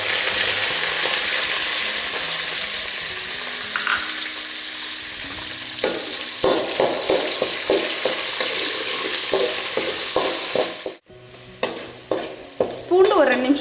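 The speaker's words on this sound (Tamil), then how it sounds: "கருவேப்பிலை பொரிஞ்சதும் உரிச்சு வச்சிருக்க பூண்டு சேர்த்துக்கலாம்." Garlic fries in hot oil with curry leaves for a garlic kuzhambu. A loud, continuous sizzle runs throughout, with repeated stirring clinks and scrapes. The sound briefly dips near the end before the stirring resumes.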